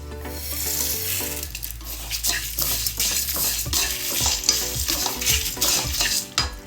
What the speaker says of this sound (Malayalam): ഇനി ബാക്കി വറുത്ത് വെച്ചതും കൂടി ഇതിൻ്റെ കൂടെ ചേർത്തിട്ട് നമുക്ക് ഒന്നുകൂടെ ഫ്രൈ ആക്കാം.